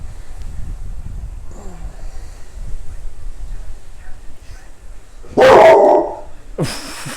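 A large Tibetan Mastiff gives one loud, deep bark indoors after a quiet stretch of faint room noise, then a second shorter bark follows.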